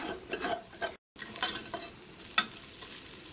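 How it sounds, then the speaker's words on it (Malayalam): Chili powder frying in a pan of green gram curry while a wooden ladle stirs it, giving soft sizzling with scraping stir strokes, close and moderately quiet, with a brief dropout partway through. "ഈ മുളക് പൊടി ഇതിനകത്ത് കിടന്നിട്ട് നന്നായിട്ട് പൊടിയട്ടെ."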